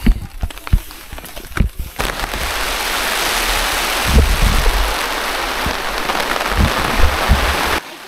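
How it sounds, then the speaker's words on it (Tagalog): Heavy rain at a campsite in Atok pours down steadily in a dense, loud hiss, with a few sharp clatters and taps early on before the downpour settles into a continuous roar. "malakas na yung ulan"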